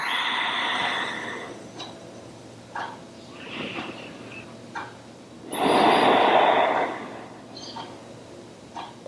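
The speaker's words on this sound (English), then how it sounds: "Deeply inhaling and deeply exhaling." Slow, deep breaths, close to the mic, during a yoga session: a few soft inhales and exhales, then one long, loud breath near the middle, with gentle rustling between them.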